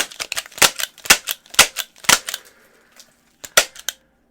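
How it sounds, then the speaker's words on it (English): Dual-wield confetti cannons firing a rapid series of sharp cracking pops, about a dozen loud bursts in quick succession, a short pause, then a few more shots. "this dual-wield confetti cannons are for you"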